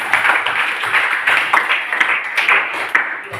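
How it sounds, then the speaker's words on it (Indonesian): Schoolchildren in a classroom clap for a classmate, an uneven burst of hand claps with scattered individual strikes, close and moderately loud, with no talking over it. "tepuk tangan untuk kawan kita"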